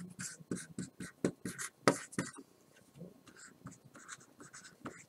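Pen or marker writing out a linear programming objective function by hand, a close run of short scratchy strokes and taps with brief pauses.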